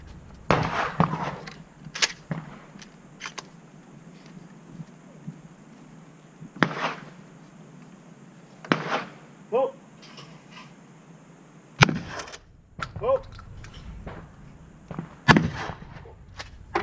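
Pump-action shotgun fired outdoors, loud sharp blasts spaced several seconds apart, with some closer clusters of shots, each ringing out briefly over a quiet background.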